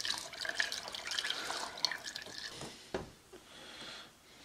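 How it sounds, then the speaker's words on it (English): Water trickles and splashes close by as it is poured into a container with chicken stock for homemade dog food, a faint, uneven running flow with small drips that tapers off toward the end. "I'll fill the rest of that up with water"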